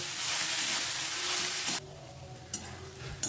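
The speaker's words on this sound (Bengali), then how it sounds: "শোলা কচুটা দিয়ে আমি মশলার সাথে ভালোভাবে কষিয়ে নেব।" Chopped taro sizzles loudly in a pan with spices, oil hissing steadily before quieting, with a few sharp scraping stirs near the end.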